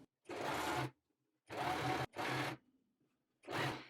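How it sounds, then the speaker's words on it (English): A home sewing machine stitches a fabric seam in three steady bursts, about half a second to one second each, with short pauses between them and a fourth run starting at the end; close and clear, with no talk. "And now once you're ready, let's just get sewing."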